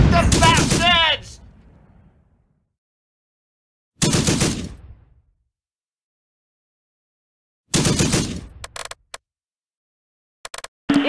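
Gunfire from the World War II tactical game Close Combat, heard as three sharp bursts separated by silence, each with a short decaying tail and crackling fragments, alongside shouted soldier voices.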